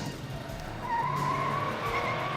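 Car tyres squealing through a skid during a movie car chase in Commando, a rising high screech that swells in the second half over engine rumble.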